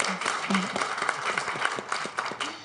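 Warm audience applause at a panel event at Davos: dense, steady clapping from many hands, with a voice speaking over it in places.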